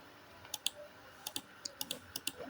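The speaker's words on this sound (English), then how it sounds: "then I'll click at the trim command" Crisp mouse clicks during AutoCAD drafting work, about ten sharp, close clicks in an irregular sequence, some in quick pairs, over a quiet background.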